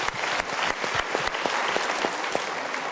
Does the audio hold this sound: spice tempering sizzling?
no